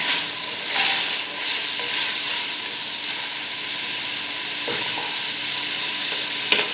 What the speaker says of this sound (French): on va ajouter le yed que j'ai coupé en petits morceaux et je tourne